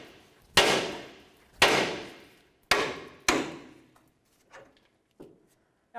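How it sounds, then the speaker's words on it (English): A hammer strikes the outer tie rod at the steering knuckle of a 2007-17 Ford Expedition to break it free: four sharp, loud, ringing metal blows spaced about a second apart, then several fainter taps. "Let's give this a couple loving bonks with a hammer to break it free."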